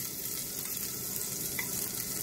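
Cumin, ginger and green chili sizzle in hot desi ghee in a pan, a steady fine crackling hiss that stays even and close, with no talking.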